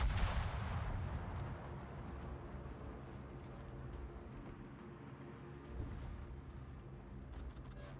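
Warship main-battery guns fire shells in a World of Warships naval battle, a dense, continuous rumble of heavy booms and blasts with a strong low end, with one sharp report near the start and scattered crackles later.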